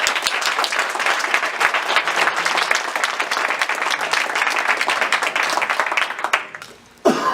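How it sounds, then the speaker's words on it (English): Sustained audience applause from a crowd at a rabbinical ordination ceremony for Jewish chaplains and community leaders, dense steady clapping that fades out near the end. "We owe him a round of applause for his support."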